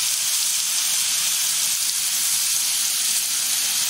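Shallots sizzle and fry in a hot wok, a steady dense hiss that holds evenly at close range for the whole stretch with no voices.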